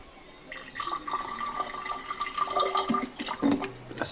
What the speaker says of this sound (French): On va mettre l'eau dedans.